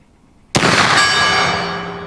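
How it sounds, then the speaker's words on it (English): A 405-grain pure lead bullet from an Old West rifle strikes a steel gong with one sharp, loud impact, then a bright metallic ring that sustains and slowly decays. "I don't really remember where to hold for the gong, but I'm going to take a shot at it."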